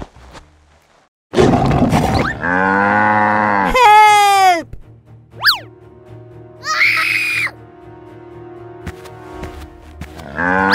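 Cartoon cows on a 3D farm moo in several loud, drawn-out calls, some rising into high scream-like bleats, separated by short pauses, with no talk over them.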